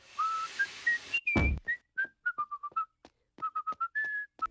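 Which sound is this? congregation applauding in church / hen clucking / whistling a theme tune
whistling a theme tune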